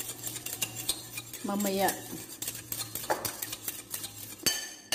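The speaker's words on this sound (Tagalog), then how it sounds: "Mix natin ang ating sauce. Sauce for the salad." Metal utensils clink and scrape against a bowl while salad sauce is stirred, with brief close rattles and taps over a steady background hum; a voice speaks briefly.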